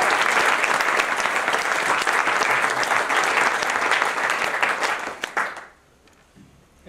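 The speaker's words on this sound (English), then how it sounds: "I would like please you to give a big hand of applause for them." Wedding guests applaud for the couple during speeches, a dense sustained burst of clapping from a crowd in a hall that holds steady and then fades out over the last seconds.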